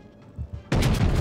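The destroyer Benson fires its naval guns in the World of Warships video game, in a competitive team match. A low, quiet game rumble gives way to a sudden loud, sustained burst of booming gunfire that fills the rest of the moment.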